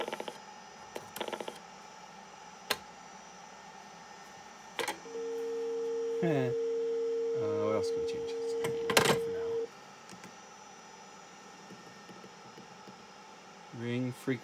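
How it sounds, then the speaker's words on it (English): An Ameritec AM-7 central office simulator emits a steady telephone dial tone lasting about four seconds, clear and close, amid quiet handling clicks and brief speech. "listen to that beautiful dial tone"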